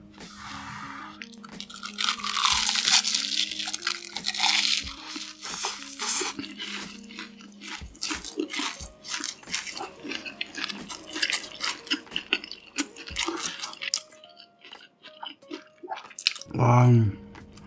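Five cheese sticks eaten at once with a fork of hot, freshly made cheese sticks: loud close crunching bites followed by repeated chewing and mouth sounds, with a brief bump near the end.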